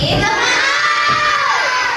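Children in a classroom shout and cheer together in a loud, continuous chorus of young voices, with clapping barely distinguishable beneath the shouting.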